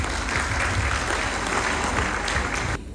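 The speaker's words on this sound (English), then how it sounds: "Let's give them a big round of applause." Audience at a Philippine International Institute Qatar commencement ceremony applauding the graduation trainers, a dense, steady burst of clapping from many hands that holds for several seconds and then cuts off abruptly.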